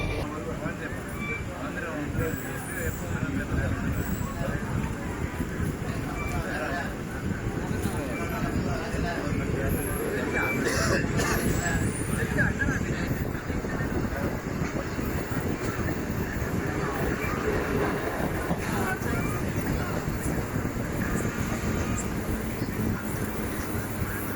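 Continuous low rumble and rattling clatter of a moving Arakkonam Fast MEMU passenger train, steady and fairly loud throughout, with no clear voices.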